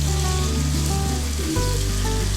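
Chicken fries in a pan with added chicken stock, giving a continuous sizzle under a loud, steady low hum.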